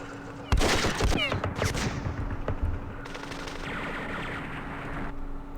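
Gunfire aimed at a mortar position in the Vietnam war game Campaign Series Vietnam, a short burst of loud crackling shots and rattling automatic fire that fades into a lingering low rumble.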